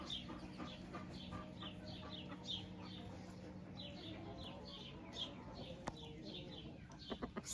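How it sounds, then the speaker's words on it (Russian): A silkie rooster and hens on a small farm clucking repeatedly in short, overlapping calls at moderate distance, with a steady low hum in the background. "Вот такой красавец, петух шелковый."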